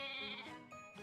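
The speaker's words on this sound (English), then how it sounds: "That sheep said." A sheep in the Professor Layton vs Phoenix Wright video game gives a single short, wavering bleat, clear but fairly quiet, with no voices over it.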